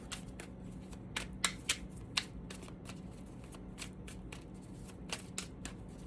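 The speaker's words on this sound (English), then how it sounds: "These cards are so weird with the shuffle." Tarot cards being shuffled by hand up close, a quiet riffling texture punctuated by sharp snapping flicks at irregular intervals over a soft background hum.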